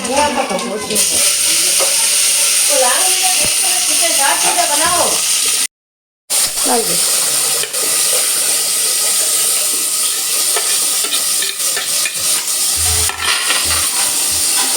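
Cumin, mustard seeds and chopped vegetables sizzling in hot oil for a home-style cooked dish: a loud, continuous frying hiss with stirring scrapes throughout and a brief silent break, while a voice talks over it.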